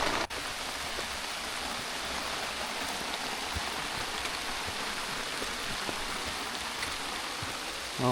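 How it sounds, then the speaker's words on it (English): Steady heavy rain pouring down in Bohol, a dense unbroken hiss throughout with a faint patter, no voices. "It is raining hard, even harder than before."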